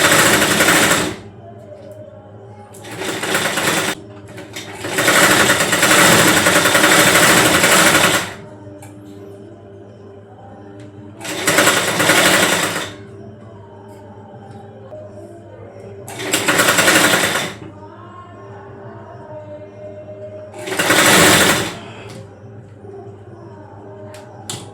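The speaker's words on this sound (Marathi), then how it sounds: "हे असं बाहेर काढलं की मगाप्रमाणे आपण इथं एज मशीन मारून घेऊया." An edge overlock sewing machine stitches fabric in five loud bursts of rapid whirring, the longest lasting a few seconds, separated by quiet pauses with faint background sound.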